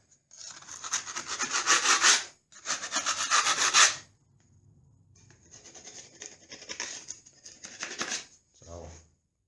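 A scraper works loose, cracked, peeling paint off a wall over poorly sealed new plaster. Loud, close, raspy strokes come in long sweeps with short pauses, then fainter scraping follows, and a brief voice is heard near the end.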